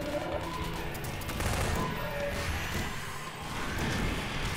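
Dense gunfire with bursts of automatic fire and crashing impacts fills a combat scene in Half-Life 2: Episode Two, continuous and loud throughout, with grenades also in use.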